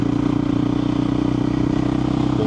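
A KTM 500 EXC-F motorcycle cruises along country roads with a steady, close engine drone and continuous wind rumble throughout.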